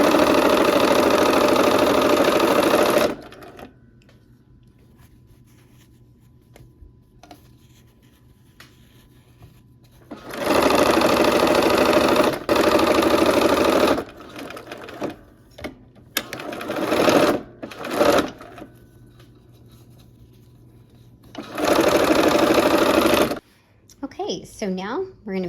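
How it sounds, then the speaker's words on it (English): A sewing machine stitches quilt pieces into rows for a barn quilt sampler, running in three steady loud buzzing stretches with quiet pauses between them, while fabric handling and brief talk fill the gaps. "All right, let's go ahead and sew."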